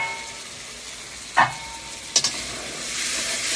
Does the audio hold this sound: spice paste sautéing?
yes